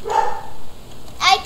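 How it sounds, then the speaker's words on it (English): A dog barks twice nearby, a short tonal bark followed after a pause by a sharper yip, set against a faint steady background hum. "sorry if you can hear my dog barking."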